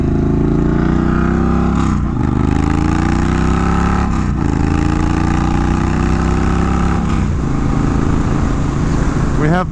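A 2022 Triumph Bonneville Bobber motorcycle engine pulls hard under acceleration, its loud steady drone climbing in pitch through each gear with brief dips at the shifts, wind rush mixed in throughout.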